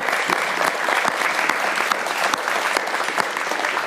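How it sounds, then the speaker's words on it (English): A speaker-series audience gives a round of applause, steady dense clapping throughout at close range with no voices over it. "Another round of applause."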